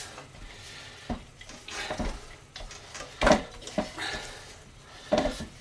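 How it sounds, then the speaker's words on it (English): Pasty dough for Cornish pasties being worked around a mixing bowl: a run of soft scraping, thudding and knocking sounds, close and moderately loud, with a few sharper knocks against the bowl and no talking. "what we do is we keep rolling it until the bowl's clean"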